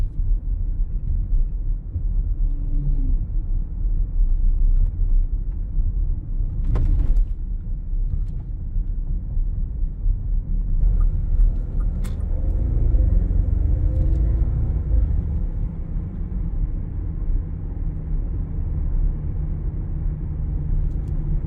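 A Bentley Bentayga V8 SUV drives along, its big V8 giving a steady low rumble and road roar from inside the cabin, with an occasional creak and a slight rise in engine tone partway through.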